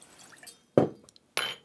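Orange ginger shrub is poured from a jigger into a cup for a vodka mule cocktail. Two short, close liquid splashes land about half a second apart, with a little faint clinking before them.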